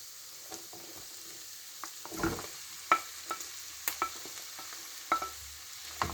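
Onions, potatoes and tomatoes fry in a pan with a soft sizzle beneath repeated spoon clinks and scrapes from stirring, fairly quiet and close, with no voices.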